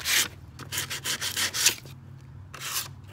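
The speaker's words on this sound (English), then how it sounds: "Basically, we're just getting off as much loose paint as possible" Rough back-and-forth scraping of loose paint off a rusty metal vent cover, close and steady in a dozen quick strokes with a brief pause near the end.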